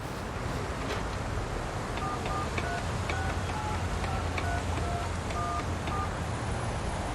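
Tones of a public telephone being dialed in the video game 13 Sentinels: Aegis Rim, a run of short beeping key presses spread evenly over a steady background hum, with no talking.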